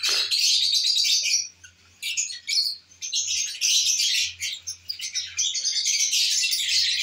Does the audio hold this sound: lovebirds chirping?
yes